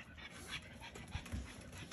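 A dog pants close by in quick, soft bursts of breath, with a few louder huffs toward the end and no voices over it.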